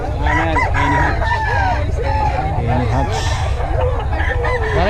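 Many roosters and hens at a crowded chicken market in Bocaue crow and cluck at once, producing a loud, continuous, overlapping chorus of calls from birds near and far.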